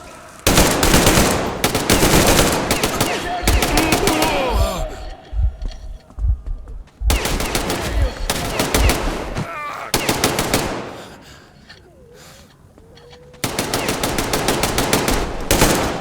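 Gunfire in the video game Metro Exodus erupts in long bursts of rapid automatic shots, loud and close, broken by lulls with shouted voices and rustling before the firing resumes.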